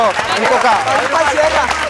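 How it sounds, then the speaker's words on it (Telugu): Audience applause at a college quiz game show, a dense clapping crowd sustained for a couple of seconds with a host's voice talking over it. "గట్టిగా క్లాప్స్ కొట్టండి"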